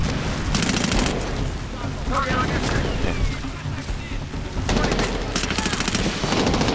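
Rapid automatic gunfire in Medal of Honor: Warfighter, loud sustained bursts with booming blasts, continuing under excited shouting from players.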